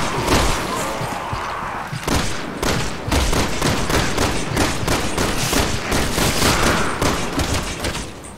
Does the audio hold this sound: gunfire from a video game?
yes